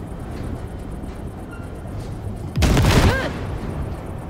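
Cyberpunk 2077 gunfire blasts at wrecks near a Basilisk cargo ship: after a low background hum, a sudden loud burst of shots erupts midway and rings out briefly before fading.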